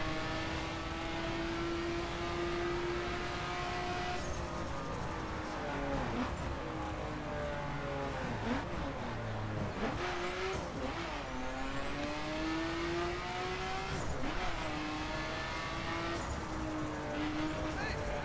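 A car in the racing game The Crew drives along with a steady engine drone, its pitch rising and falling through gear changes, while someone talks over it throughout.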